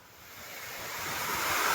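Wind and rain rush steadily outdoors over farm crops, the roaring hiss swelling louder over a couple of seconds with no voices.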